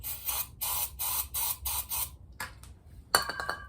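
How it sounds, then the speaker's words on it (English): Several short hissing bursts of an aerosol can of starting fluid spraying into a Honda Express NC50 moped in quick succession, then a pause and a final longer spray with a faint mechanical rattle. "let's give it a little starting fluid."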